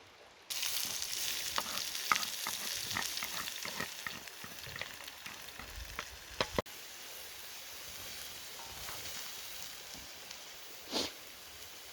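Carrots and onions frying in fat and oil outdoors in a forest, a soft crackling sizzle with scattered stirring clicks and knocks, faint and close, no talking.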